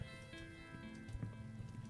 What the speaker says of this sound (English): The sun has set and rain has swept in.